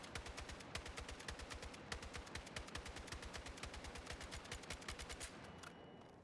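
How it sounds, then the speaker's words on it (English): Automatic weapon fire in Battlefield 6, loud and close, with rapid shots in short clustered bursts of two or three that repeat steadily throughout, with no voices. "it's doing short bursts of 2 or 3 shots quickly"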